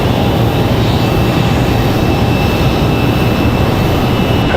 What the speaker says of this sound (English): the Dreamliner on one end, the American 777 over here on this end. Hopefully we'll get a back-to-back departure between these two